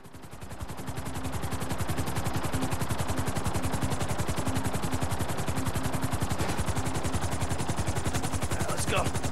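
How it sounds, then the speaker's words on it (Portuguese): A helicopter in the video game GTA 5 comes in to land, its rotor thumping in a fast, steady, loud beat that fills the whole stretch with dense chopping pulses. "Vamos pousar o helicóptero ali pra deixar ele."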